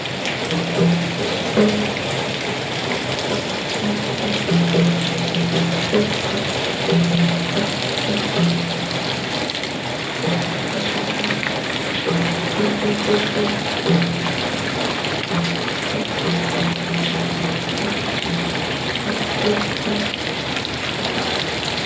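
Heavy rain pours steadily during a sudden storm in Nakhon Phanom, Thailand, a continuous loud wash of falling water over a rural home, with someone talking throughout over the downpour.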